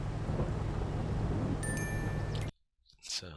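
Rain and thunder from the Farming Simulator 22 video game fill the first two and a half seconds as a dense, steady hiss over low rumbling, then cut to near silence before a brief faint sound.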